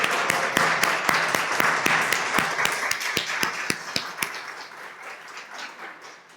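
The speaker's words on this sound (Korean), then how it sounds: "DTS 학생들 자리에서 일어나 주시면 큰 박수로 환영하도록" A church congregation claps together to welcome DTS students, the sharp claps falling into a fairly even rhythm that gradually softens and dies away.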